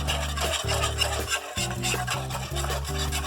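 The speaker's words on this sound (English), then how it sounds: "Just keep whisking it until it gets thick." Gravy whisked in a pan until it thickens gives a steady, close scraping and swishing that runs without pause, with music playing underneath.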